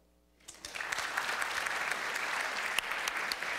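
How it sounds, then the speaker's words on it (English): A lecture audience answering a show-of-hands style poll with applause: after a brief quiet start, clapping swells in and holds as a full, steady roar of many hands with occasional crisp individual claps. "Clap if you think that we are actually real."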